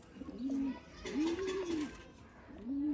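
Breeder pigeons coo softly in repeated low, rounded calls, three phrases in a row with faint background noise.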